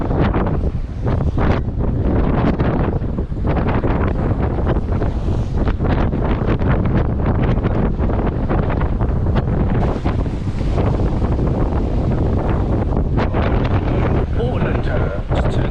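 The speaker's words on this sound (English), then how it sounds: "So the wind is still up at 20 knots." Strong wind at sea aboard a sailing boat blowing around 20 knots, loud continuous buffeting gusts against the microphone with rushing water beneath, filling the whole stretch.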